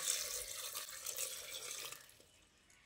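Water pours steadily into a pot holding jackfruit, ginger and garlic for a curry, a soft close splashing hiss that tapers off near the end.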